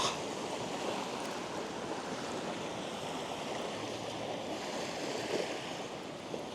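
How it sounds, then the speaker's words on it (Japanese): A fast-flowing river on Tokunoshima rushes with a steady, broad hiss of moving water, close and continuous, with no talking. "こは川の水量が結構ありますね。"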